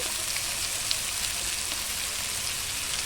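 Potatoes and onions sizzle in hot oil in a pan, a loud, continuous crackling hiss with small spitting pops and no talking.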